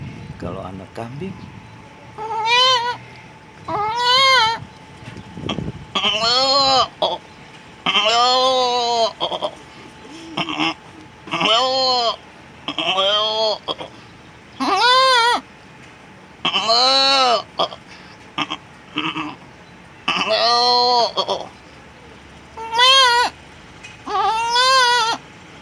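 A man mimics a young goat's bleating with long, wavering, nasal cries repeated a dozen times in steady bursts, very close and loud with short pauses between calls.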